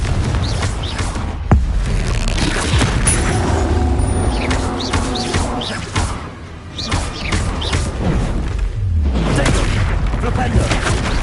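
Blasting-spell explosions in the Hogwarts Legacy video game: several booming bursts with crackling debris, one sharp blast early and heavier rumbling hits later, all loud and close over continuous battle noise.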